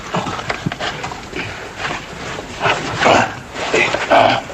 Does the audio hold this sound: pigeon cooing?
no